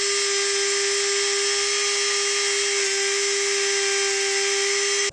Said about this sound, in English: these little tabs almost on either side need to be trimmed down